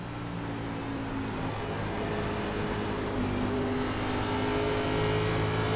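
A NASCAR Xfinity Series race car at Kentucky Speedway in iRacing holds full throttle, a steady sustained engine drone with constant harmonic whine running unbroken and loud throughout.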